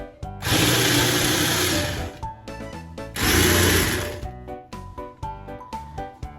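A handheld electric mixer whisks cake batter in two loud, sustained whirring bursts, each lasting a couple of seconds, followed by scattered clatter and knocks of bowl and beaters.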